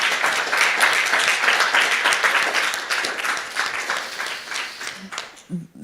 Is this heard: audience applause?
yes